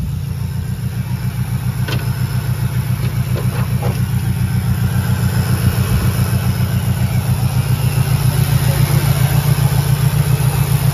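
A Nissan Sentra B14 engine idles close by with an injector misfire, giving a loud, uneven, rhythmic chugging pulse that stays steady throughout.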